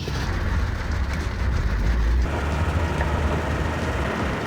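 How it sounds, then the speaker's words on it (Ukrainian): Heavy rain heard from inside a moving Gazelle van, a dense, steady wash of noise over a deep rumbling road and engine drone, loud and continuous throughout with no talking. "На дворі йде дуже сильний дощ"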